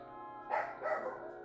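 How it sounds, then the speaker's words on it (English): A dog gives two quick barks, somewhat muffled and moderately distant, over a quiet background hum. "I apologize about the dog."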